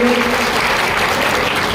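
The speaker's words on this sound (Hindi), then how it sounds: "और जोरदार ताली से इनका भी सब लोग स्वागत करिए" A crowd gives loud, continuous applause welcoming newly elected council members at a swearing-in ceremony, a dense close roar of clapping that holds steady throughout.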